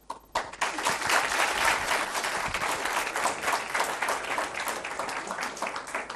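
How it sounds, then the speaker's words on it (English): An audience of university students at LUMS bursts into sustained applause, many hands clapping in a thick, even wash that tapers off slightly toward the end. "Once we are done with the clapping part"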